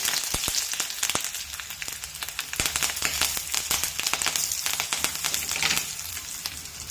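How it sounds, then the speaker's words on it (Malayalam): Urad dal, dried red chillies and curry leaves fry in hot oil in a pan, a close, busy sizzle dense with sharp crackles and pops that quiets slightly toward the end. "അതിലേക്ക് രണ്ട് വറ്റൽമുളക് ഇട്ട് കൊടുക്കാം കൂടെ കറിവേപ്പിലയും"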